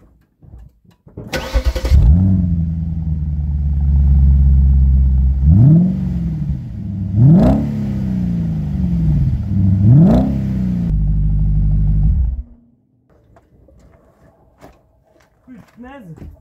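Volkswagen Phaeton engine cranking and catching, then settling into a loud steady idle broken by three sharp revs, before cutting off; people talk over and around it.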